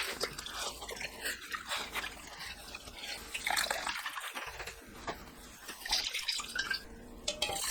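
Malt water for Korean sikhye dripping and trickling as it is strained from soaked barley malt, a steady wet splashing and dribbling close by with no talk.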